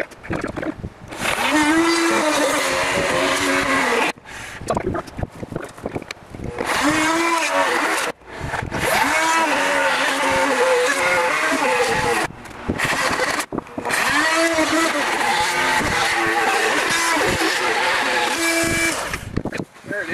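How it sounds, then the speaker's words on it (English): An underpowered drill bores through a 2x board for a barrel sauna build, whining loud and close in long bursts that bog down, with short pauses between runs. "A little underpowered for the bit, so I just gotta take my time when it bogs down."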